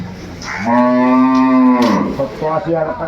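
Beef cattle at a Cox's Bazar cattle market give a loud, close, drawn-out moo lasting over a second, followed by a shorter second lowing call, with market murmur behind.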